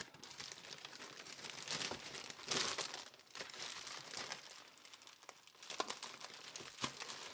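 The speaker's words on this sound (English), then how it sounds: "Big bubble wrap." Large bubble wrap packaging, unwrapped from orthopedic massage slippers, crinkles and crumples in dense, close bursts of plastic rustling with a few louder crunches, continuing throughout without speech.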